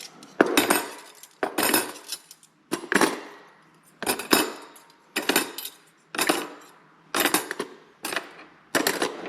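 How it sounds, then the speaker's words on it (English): Dishes and cutlery are put away in a home kitchen, repeated clattering bursts of metal and ceramic clinking at roughly one-second intervals, close and loud with no talk. "Already all of the dishes are put away."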